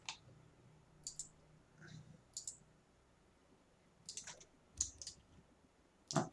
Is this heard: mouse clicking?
yes